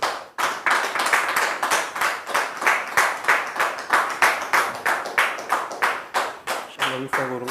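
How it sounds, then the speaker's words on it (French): Congregation at a church service clapping to welcome a guest brother, a loud rhythmic unison clap that beats steadily about three times a second. A voice comes in near the end. "sous vos applaudissements, bien sûr"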